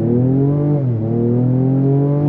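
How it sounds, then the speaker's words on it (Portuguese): A Ford Ranger Raptor pickup's V6 engine roars loudly and continuously under acceleration, with a brief dip in pitch like a gear change before it climbs again, close up and without talk. "Olha o ronco do V6ão."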